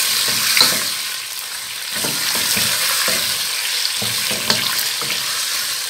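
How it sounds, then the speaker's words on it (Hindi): Chicken frying with garam masala, ginger and garlic in a pan for a shahi chicken korma, giving a loud steady sizzle broken by stirring scrapes, with no voices. "एक 1-2 मिनट हम इसे फ्राई करेंगे गरम मसाले के साथ और जिंजर गार्लिक के साथ"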